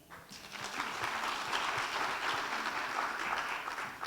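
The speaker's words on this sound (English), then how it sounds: "Let's give them a round of applause." Sustained audience applause at a Somali Heritage Week 2019 speech event, a dense, steady wash of many hands clapping that swells quickly and holds loud throughout before easing slightly at the end.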